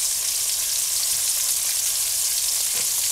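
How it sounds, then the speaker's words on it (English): Pork chops cook in liquid in a pot with a constant, even hiss and bubble, moderately loud and unbroken with no voices. "you will add your liquid. And simmer them for 20 minutes."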